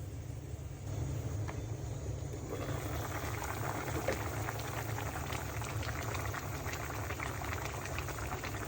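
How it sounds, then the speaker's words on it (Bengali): Hilsa fish and taro curry simmering in broth, a steady bubbling boil with a low continuous rumble throughout, fairly close and alone without talk. "ঝোল দিয়ে দিয়েছি। এখন আমি 15 থেকে 20 মিনিট রান্না করে নিব।"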